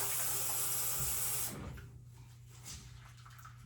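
Water rushes steadily from a bathroom sink for a moment, then cuts off abruptly, leaving a faint trickling drain under low room hiss.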